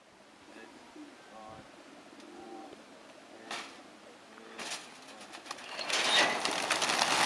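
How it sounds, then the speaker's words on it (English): Racing pigeons are released outdoors at an outback roadhouse, their wings rising into a loud, building flurry of flapping that swells near the end, following a stretch where a narrator speaks. "Pigeon Man releasing pigeons which are going to race back to Townsville"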